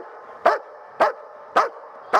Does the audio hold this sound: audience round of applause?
no